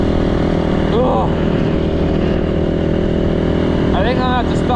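A rebuilt Yamaha YZ450 dirt bike engine runs loud and close at a steady idle, a constant throbbing drone with two brief revving swells.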